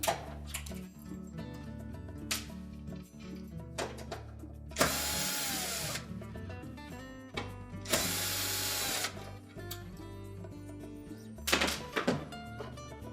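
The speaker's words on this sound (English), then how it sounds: "remove the 2 Phillips screws that secure it to the back" A power driver removes two Phillips screws holding the temperature sensor to the back of a Whirlpool oven: two loud, sustained whirring bursts of about a second each, with clicks and knocks of handling in between.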